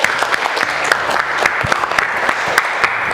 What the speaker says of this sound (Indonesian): Bagus sekali, kita kasih aplaus.